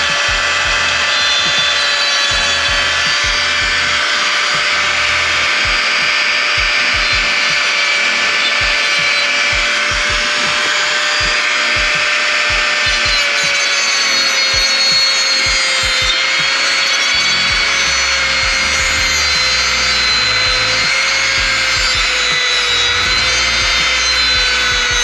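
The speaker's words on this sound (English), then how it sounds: "bringing out my trusty Dremel. I'm going to be cutting" A Dremel rotary tool grinds continuously into a seized exhaust bolt nut on a Honda S2000, a loud, steady high-pitched whine with a faint wavering tone.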